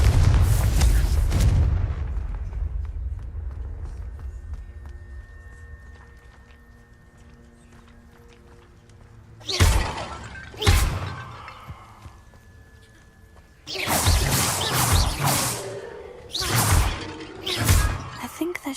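Hogwarts Legacy gameplay with the Confringo spell smashing vases: several loud booming bursts, some in quick clusters, separated by quieter stretches of ambient game sound.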